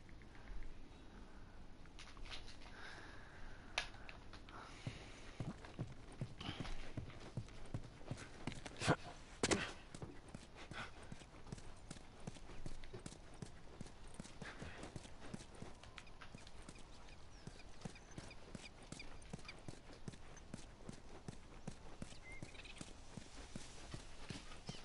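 Quiet, steady clip-clop of horse hooves at a walking pace in the video game The Last of Us Remastered, continuing evenly throughout with a few sharper knocks along the way.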